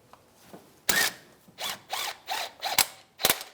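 A hand ratchet snugs a power steering pressure hose bolt on a Buick Enclave, giving several short, crisp clicking bursts in quick succession, close and fairly loud.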